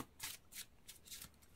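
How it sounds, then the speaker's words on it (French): Oracle cards are shuffled and drawn in a quiet room, making four or five soft, quick riffling swishes close by, with no speech. "On va tirer une petite carte datation pour voir un petit peu ce que ça dit"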